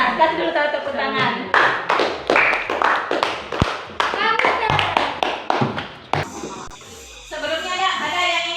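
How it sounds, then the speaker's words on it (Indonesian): A classroom of children claps hands together in a lively burst of rhythmic, sharp claps, with kids' voices chattering over and between the claps and a quieter pause near the end. "Kasih dulu tepuk tangan."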